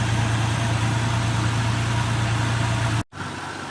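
A Ford Ranger engine idles steadily and close by, a low constant hum that holds evenly for about three seconds before cutting off abruptly, then a quieter background hum follows.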